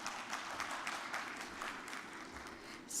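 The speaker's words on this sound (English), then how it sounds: "A round of applause please for the..." An audience at a women's entrepreneurship event applauds after a session, a short stretch of moderate, even clapping.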